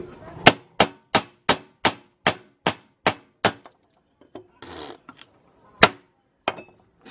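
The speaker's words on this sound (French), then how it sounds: "Je vais m'essayer là, en tapotant au-dessus là, juste au-dessus de la lame." Sharp metallic taps on top of an Opinel No. 9 folding knife blade, nine evenly spaced clinks in a quick steady rhythm, then a brief rustle and two more isolated taps, close and loud.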